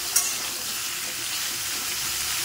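Ridge gourd with poppy seed and eggplant pieces fries in oil that is a little too plentiful, giving a steady, close hiss and crackle without pause, with one brief sharp pop near the start.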